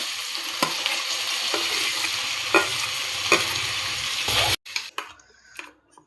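Tomato pieces sizzle loudly in a pan with onions for a paneer curry, a steady close frying hiss with periodic stirring scrapes, then the sound cuts away to quieter scattered clinks.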